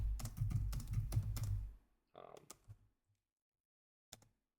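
Typing on a computer keyboard with faulty keys: a fast run of clicky keystrokes over a low hum, then a few scattered taps and a final isolated click in near silence.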